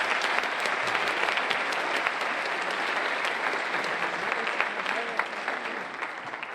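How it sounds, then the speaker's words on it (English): Steady applause from a large crowd, dense clapping that holds at an even level throughout with no pauses. "Let's give Arkansas a big round of applause."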